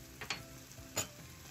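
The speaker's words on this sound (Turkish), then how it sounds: "Şöyle bir karıştırıp 3-4 dakika soğan ve sarımsağı güzelce soteliyorum." Chopped onion and garlic cloves sautéing in melted butter in a frying pan, a soft continuous sizzle broken by a few scraping stirs of a utensil, close and quiet with no talk.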